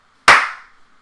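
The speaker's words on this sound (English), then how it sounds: "if I clap right now into the microphone" A single sharp hand clap in a room, loud and close, its bright crack trailing into a short decaying room ring.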